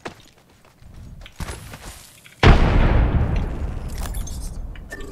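A frag grenade detonates in Apex Legends with a sudden loud boom that cuts through quieter game noise, then rolls on as a broad, sustained rumble and debris wash for several seconds.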